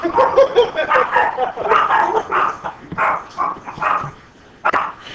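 A dog barks and yips repeatedly in quick, uneven bursts, close and fairly loud, with whimpering sounds between the barks.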